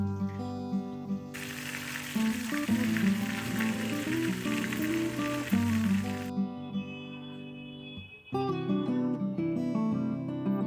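Bhetki fish fries in a pan on a low to medium flame, a bright steady sizzle rising for several seconds mid-way and then cutting off, all under continuous background music.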